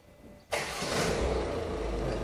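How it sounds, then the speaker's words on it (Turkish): A Ford Kuga's engine starts with a sudden catch and settles into a steady, loud idle rumble close by, with no voices. "Çalıştırın arabayı."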